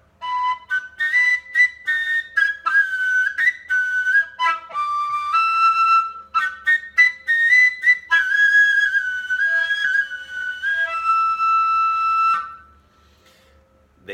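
A breathy plum-wood overtone flute plays a wavering, whistle-like melody in short phrases, clear and close, then stops.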